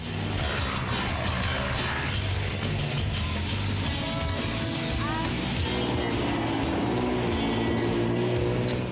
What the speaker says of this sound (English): 187 drivers have come with their elegant vintage automobiles to take part in the Kitzbühel Alpine Rallye.